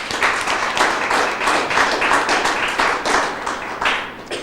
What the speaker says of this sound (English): So we felt all of them should be given a round of applause